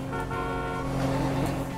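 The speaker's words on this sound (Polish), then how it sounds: "O, trąbił!" A car horn honks in a GTA role-play game on a Polish construction-themed server, a steady held toot over engine and street ambience, fairly close and loud throughout.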